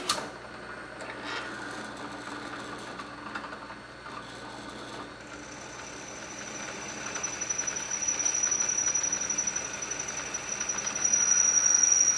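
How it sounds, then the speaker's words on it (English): A steady mechanical whir of a drill grinding freehand through a metal fuel rail, with a rising high-pitched whine and faint rattling, no voices. "It's pretty easy drilling here."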